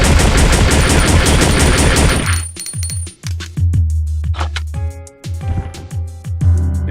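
Gunfire in Resident Evil Survivor comes as a rapid, loud stream of shots, then breaks into separate single cracks with metallic clinks and ringing tones between them.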